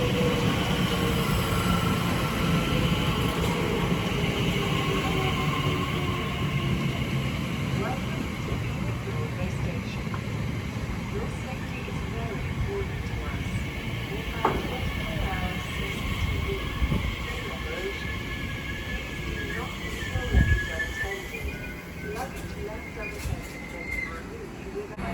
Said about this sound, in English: There's a Great Western Railway IET from London Paddington to Oxford